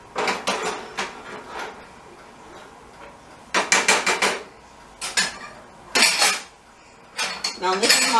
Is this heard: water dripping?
no